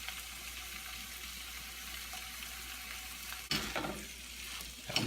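Barbecue chicken is stirred into barbecue sauce in a hot skillet, a soft steady sizzle with scraping stirs and a sharper clatter of the utensil partway through.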